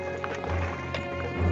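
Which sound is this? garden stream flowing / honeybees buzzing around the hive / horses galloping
horses galloping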